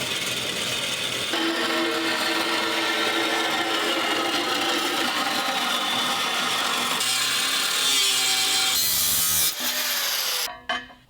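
A continuous, loud, rasping cut runs for about ten seconds as the flange is severed from an old engine oil pan, then stops abruptly. No voices are heard.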